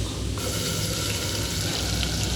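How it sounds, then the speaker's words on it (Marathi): Ground masala paste frying in hot oil for a Maharashtrian misal curry, giving a continuous, fairly loud sizzle and crackle with no talk. "अगदी तेल सुटेपर्यंत हे वाटण चांगले परतवून घ्यायचे आहे."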